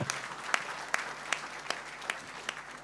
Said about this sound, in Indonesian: Tepuk tangan begitu.